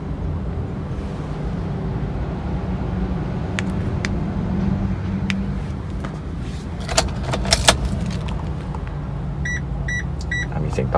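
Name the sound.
Chery Tiggo3 car confirmation sound while programming remote key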